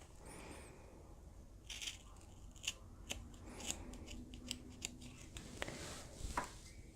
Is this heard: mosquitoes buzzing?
no